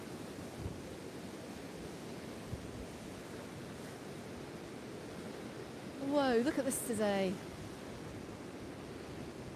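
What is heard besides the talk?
choppy sea waves at a Mallorca beach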